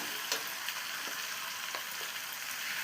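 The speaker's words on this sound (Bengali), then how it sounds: "তার থেকে কষানো দেখুন" Food sizzles and fries in a pan during kosha sautéing in a Bengali home kitchen, a steady close hiss with occasional soft stirring scrapes and no talking.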